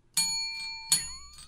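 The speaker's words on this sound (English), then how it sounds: "You broke your bell." A small bell is rung twice, each a bright metallic ding with ringing overtones that sustain and decay, the second strike followed by a slightly wavering tone, close and clear with no talk.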